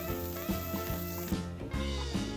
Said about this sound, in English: Then add the lamb and cook it for about 5 minutes on each side.